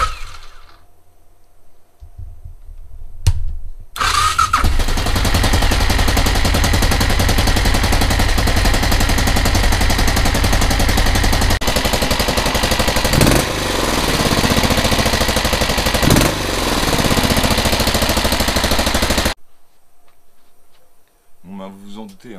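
A Suzuki Big DR motorcycle engine, freshly revived after a long repair, runs at idle with a steady, loud, rapid thumping beat for about fifteen seconds, then cuts out into near silence.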